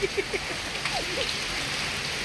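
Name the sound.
rain falling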